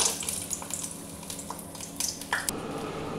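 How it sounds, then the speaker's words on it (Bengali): Lentil bori (biulir dal vadi) frying in moderately hot oil in a wok, a steady bubbling sizzle with scattered crackles and pops, close and continuous, briefly dipping near the end. "কড়াতে তেল দিয়ে দিলাম, তেলটা মোটামুটি গরম হয়ে গেছে। আমি দিয়ে দিচ্ছি বেশ কয়েকটা বড়ি।"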